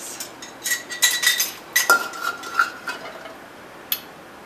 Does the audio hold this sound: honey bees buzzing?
no